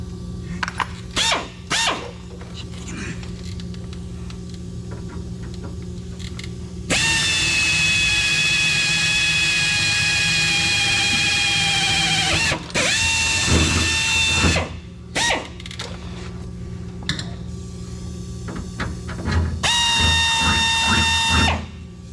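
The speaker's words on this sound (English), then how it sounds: "Now we got our pilot hole drilled. We'll just step it up to the big bit." A power drill with a step bit bores through the thin sheet-metal body tub of a 1966 Jeep CJ5, whining loudly in long steady bursts with shorter runs and handling clatter between, close up.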